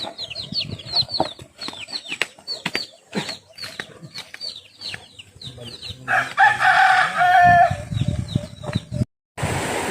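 A pet rooster crows in one long, loud call close by on a farm, after a stretch of busy clucking and chirps from the flock of chickens, with light wing flapping and brief human voices near the end.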